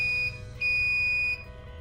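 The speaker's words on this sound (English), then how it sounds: "it is giving a buzzing alarm" A metal detector door system sounds its alarm as someone carrying metal passes through, giving a loud, steady electronic tone in two long bursts separated by a brief drop, heard close with no talk.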